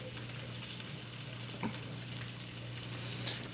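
Minced garlic frying in olive oil, a steady close sizzle with faint stirring scrapes and no voices.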